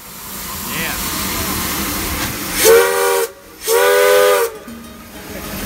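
A steam train sounds two loud, sustained whistle blasts with a brief gap between them, set over continuous hissing steam and background noise.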